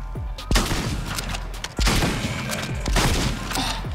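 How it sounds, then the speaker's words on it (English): Gunfire in the Fortnite video game rings out in sharp, punchy bursts, several shots spaced through the stretch with a booming low thump, fairly quiet overall with game ambience between the reports. "Oh, he's shooting me. Oh, he's shooting me back."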